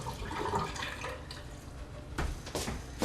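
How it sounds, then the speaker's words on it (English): Green beans are drained into a colander in a home kitchen, with a soft, continuous rush of water splashing and trickling through the strainer, followed by a few louder sloshes near the end. "I take my green beans and go drain them into a colander"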